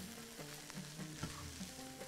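Green peas are stirred in a pan over low heat as part of Bahraini macaroni, with a soft, steady sizzle under a few scraping stirs of a spoon.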